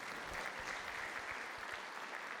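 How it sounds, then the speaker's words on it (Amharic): A church congregation applauds steadily, a dense patter of clapping that holds even throughout, heard from a moderate distance. "አጨብጭቡላቸው"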